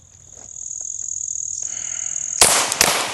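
Two sharp pistol shots from a Heckler & Koch handgun during a shooting training session, close and loud, the second following about half a second after the first, over a steady high-pitched insect-like whine.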